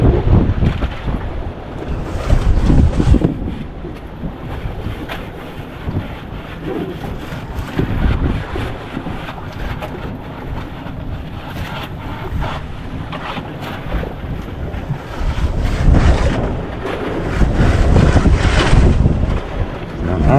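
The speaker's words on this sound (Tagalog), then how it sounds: "Alon." Sea waves slosh and break around a small boat, with strong wind buffeting the microphone; surges swell and ease irregularly, loud and close throughout.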